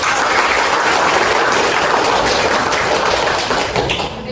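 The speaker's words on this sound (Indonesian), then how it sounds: "kita beri aplaus dulu" A classroom audience gives a student group a dense, steady round of applause after their presentation, loud and sustained before tapering slightly at the end.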